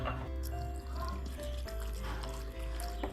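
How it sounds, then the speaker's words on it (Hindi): Water pours steadily into a cooking pot holding onion, tomato and ginger-garlic paste, a continuous gurgling fill over a low background hum, close by. "अब इसमें डाल देंगे पानी"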